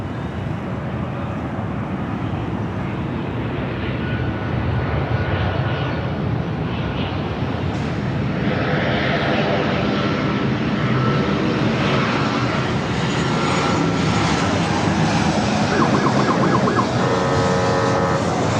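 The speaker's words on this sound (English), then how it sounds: "British Airways Flight 268 taking off to London Heathrow on the A380." A British Airways Airbus A380 takes off from Los Angeles LAX bound for London Heathrow, its four engines a loud, steady broadband roar that holds and swells slightly throughout with faint whining tones, no talk over it.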